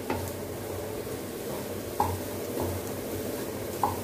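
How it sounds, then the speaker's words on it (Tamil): Potatoes and garlic sauté in an open pan with a soft, steady sizzle, punctuated every second or so by scraping strokes and light metallic clinks of a spoon against the pan. "இப்போது இந்த பச்சை வாடை போக இது வதங்கட்டும்."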